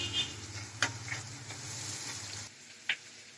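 Chopped tomatoes go into hot oil with ginger and Kashmiri chilli powder, giving a quiet steady sizzle with a few stirring scrapes before the frying noise drops away abruptly near the end.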